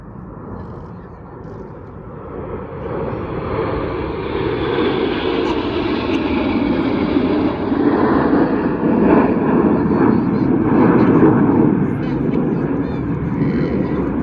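A broad, rising roar of aerobatic team jets flying in Concorde formation, swelling steadily as they pass, with a commentator talking over the engine noise.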